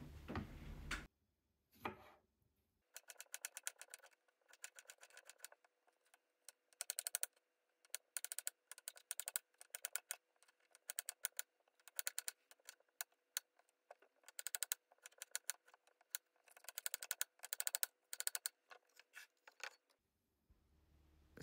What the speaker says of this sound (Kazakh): Енді қиярымызды соломка етіп турап аламыз.